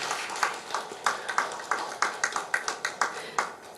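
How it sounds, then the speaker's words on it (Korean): Light, sparse clapping from a small church congregation welcoming a guest at a Sunday service, individual hand claps distinctly spaced and fairly quiet, heard from a slight distance. "우리 따뜻한 박수로 환영해 주시기 바랍니다."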